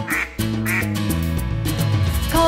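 Cartoonish goose honks sound in quick succession over a bright, bouncy children's song backing, loud and upfront in the mix.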